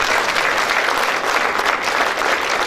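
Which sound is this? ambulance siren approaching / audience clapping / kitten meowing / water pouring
audience clapping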